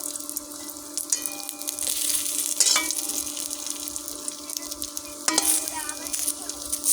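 Homemade bori lentil dumplings fry lightly in a pan, a steady close sizzle with brief stirring scrapes at intervals and no talking.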